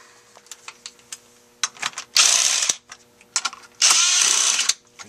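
A ratchet wrench loosens bolts on an AGM battery bank's terminals, sounding in fast clicking bursts, two long loud rattling runs separated by shorter clicks and pauses, close up with no talking.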